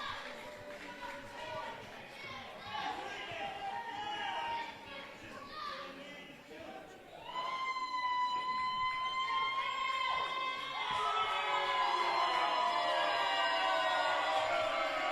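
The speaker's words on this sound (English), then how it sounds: "It's a mixed crowd. Some like it, some don't." A wrestling crowd reacts to the winner of a match with a broad wash of cheering and shouting that swells louder partway through, under a commentator talking over it.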